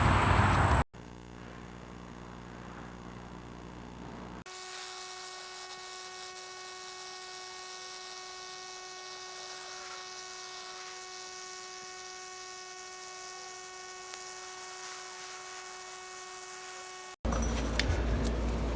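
A battery-powered Earthwise cordless pole hedge trimmer runs with a steady, high-pitched motor whine and clattering blades while cutting hedges outdoors, holding an even level for about twelve seconds, with brief louder handling noise at the start and end.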